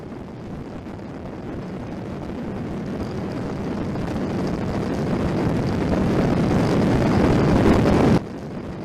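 Steady roaring rush of wind and engine from a KLR650 motorcycle at 80 mph on a highway, heard through a helmet dash cam, building gradually louder before dropping abruptly near the end.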